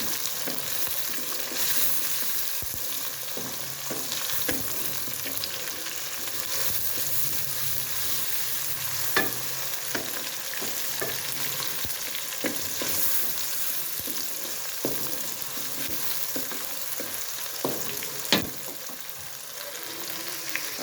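Chopped tomatoes sautéing with browned onions in a pan, a steady close sizzle and frying hiss with repeated stirring clicks and scrapes of a utensil throughout, no talk.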